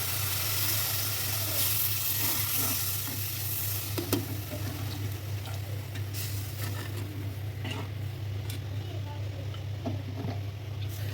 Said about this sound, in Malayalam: കട്ടിയുള്ള തേങ്ങാപ്പാൽ ഒഴിക്കണേ കേട്ടോ.